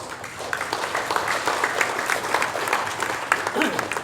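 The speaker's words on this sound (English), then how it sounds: "May I now to extend we all the great applause to His Majesty." Dense, steady applause from a large audience fills a gala dinner hall at the Shangri-La in Makati, an unbroken wash of clapping at close range.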